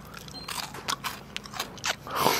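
Crispy beef crackle from smoked beef short ribs cooked on a Weber kettle is bitten and chewed up close, giving a few sharp, brittle crunches and crackles spread unevenly over a couple of seconds.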